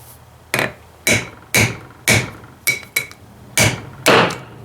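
A hammer pounding metal in a shed while servicing a 1944 tractor, eight sharp ringing blows at an uneven, roughly steady pace, each strike loud and close with a short metallic decay.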